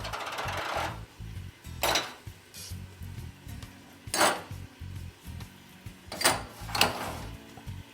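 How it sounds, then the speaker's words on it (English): Rice and beans with seasoning stirred in a Ninja Foodi pot, a utensil scraping and clinking against the pot in a few sharp bursts over a low continuous rumble, with no talking. "Let's stir it up"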